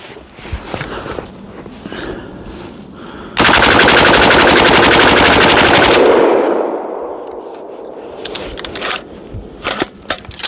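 Diamondback DB15 rifle fitted with an Atrius giggle switch dumps a full magazine in one loud, unbroken burst of about three seconds, with a ringing tail afterward and scattered handling noise and movement before and after.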